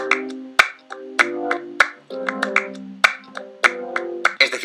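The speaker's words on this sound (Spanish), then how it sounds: "Con unas palmas flamencas" Flamenco palmas opening a song: sharp hand claps struck in an irregular rhythm over sustained low keyboard chords, the claps loud and close, with no voices.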